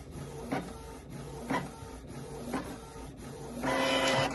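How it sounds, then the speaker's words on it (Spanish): A Canon Pixma inkjet printer printing a maintenance report, with a steady mechanical whir and rhythmic carriage passes about once a second, then a louder feeding sound near the end. "Yo voy a pausar porque ya está imprimiendo."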